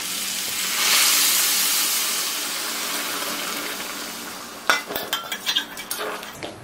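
Hot water poured into a pan of partly cooked vegetables, a rushing, hissing pour that swells and fades over several seconds, then a few clinks of a pan and utensil close by.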